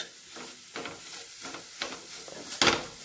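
Capsicum coated in gram flour frying in oil as it is stirred, a close sizzle broken by rhythmic scraping strokes of a spatula and one louder scrape near the end.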